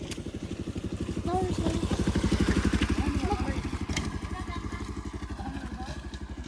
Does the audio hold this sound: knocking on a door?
no